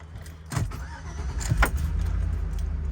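2004 GMC Yukon XL engine starting: a jingle of keys, then the starter turning over and catching into a low, steady idle rumble heard from inside the cabin.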